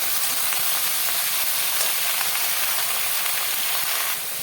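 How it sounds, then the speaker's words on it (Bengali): A steady, loud sizzle of chopped vegetables frying in a hot pan, a continuous hiss with no breaks and no voices. "ভালো করে ভাজবো সবজিটাকে"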